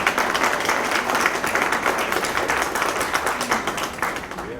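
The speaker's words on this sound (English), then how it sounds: "you can applaud" Steady audience applause at a Hampton, Virginia ceremony honoring the Tuskegee Airmen, a brisk, even patter of many hands clapping at moderate distance.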